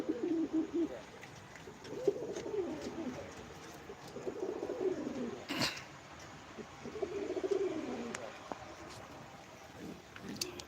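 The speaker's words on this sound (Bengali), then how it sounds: "এরা অল্প দিনই বাচ্চা দেবে ডিম বাচ্চা করবে" Danish and Sherazi pigeons in a breeding loft give repeated soft, throaty coos in several overlapping bouts, close by and moderately loud against a quiet room.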